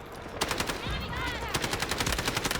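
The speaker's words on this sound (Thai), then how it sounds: "ข้างหลังยิงมาอีกเยอะ" Rapid bursts of automatic gunfire from behind the player in the Delta Force video game, a dense loud rattle of machine-gun shots in two volleys, with a short whooshing sweep between them.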